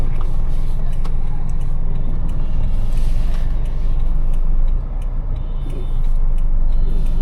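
Interior of a 2014 Toyota Premio driving at night with an RPM fault, giving a steady low engine and road rumble that dips briefly before settling back, fairly loud and continuous with no clear talk.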